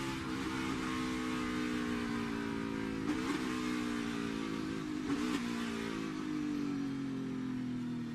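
Onboard sound of a NASCAR stock car engine at the 2018 Bank of America Roval 400 road course, Charlotte Motor Speedway: a steady, loud, close engine drone with shifting harmonics and two brief revving swells, running continuously with no talk.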